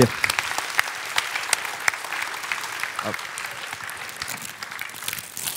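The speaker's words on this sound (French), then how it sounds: "Et les applaudissements du public." Audience applause at a citizens' award ceremony in Florange, where an honoree receives the town medal; lively, continuous clapping from a hall crowd, loud at first and easing slightly, with a brief voice heard over it.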